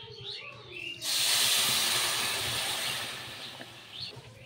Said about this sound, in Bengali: এবারে চিনিটাকে ভালো করে ফুটিয়ে নেবো